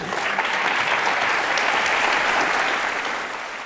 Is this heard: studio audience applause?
yes